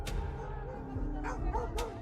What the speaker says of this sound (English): hunting dogs become loyal allies, tracking the scent and driving the boars straight into the trap